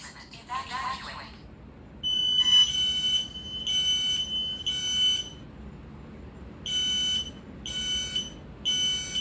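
An X-Sense SC07-W Link+ smoke and CO alarm sounding in test, sharp shrill beeps in groups of three repeating at a steady rhythm, loud and close, with a short burst of other tones at the start.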